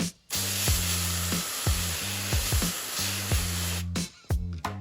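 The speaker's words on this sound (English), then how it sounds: "spray down the enclosure," A hand sprayer mists the enclosure of a hatchling crested gecko in short, hissing bursts, several squirts in quick uneven succession, close and crisp, with quiet pauses between some pumps.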